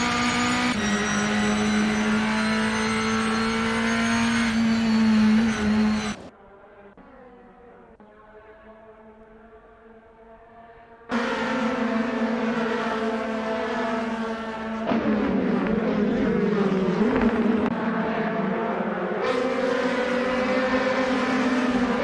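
Race cars in Assetto Corsa's 2018 DTM championship at Sachsenring roar at high revs along a straight, a loud engine whine cutting out into a quieter stretch, then returning with shifting pitch as more cars pass; no talking.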